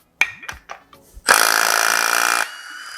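Milwaukee M18 Fuel 3/8-inch impact wrench breaking loose the head bolts on a 392 Hemi engine: a few sharp clicks and knocks, then about a second of loud, close, continuous hammering rattle that cuts off abruptly to a quieter hum.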